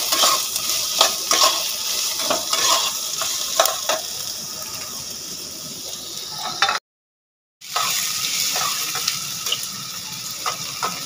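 Potatoes frying in a pan for jhal suji, with steady sizzling and scraping stirring strokes for several seconds, then a brief dropout before the sizzle and stirring carry on.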